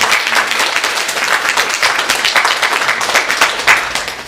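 A congregation at a Sunday church service claps together, a loud, full, continuous round of applause with slight swells that carries on for over four seconds.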